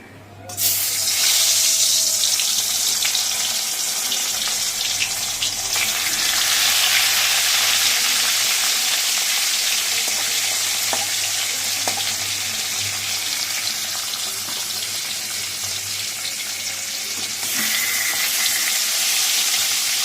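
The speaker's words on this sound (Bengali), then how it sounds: "তেলও গরম হয়ে গেছে এবার মাছগুলোকে ছাড়বো" Gurjali fish coated in salt and turmeric fries in hot oil, producing a loud, steady, close sizzle that hisses continuously for the whole stretch.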